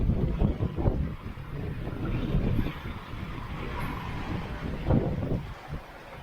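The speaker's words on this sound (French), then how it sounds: "On a un petit peu de vent." Steady wind buffets the microphone on a sailboat crossing the Atlantic from Marigot toward Horta in the Azores, making a continuous broadband rush with gusting swells, sailing at about 8 knots in 13 knots of wind over a swell-free sea.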